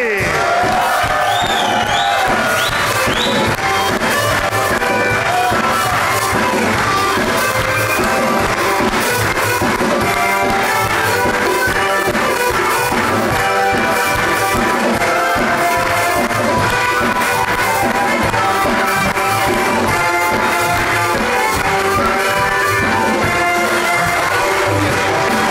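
A studio audience on a Pakistani talk show claps and cheers loudly and continuously, a dense wash of applause and whoops with music running underneath throughout.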